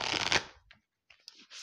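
Lunology oracle cards handled and shuffled: a brief riffle of crisp card noise at the start, a pause of near silence, then a few light slides and taps of cards, close and quiet, with no talking.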